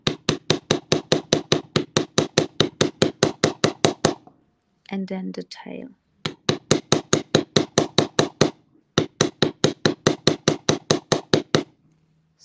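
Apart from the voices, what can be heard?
hammering craft parts on an anvil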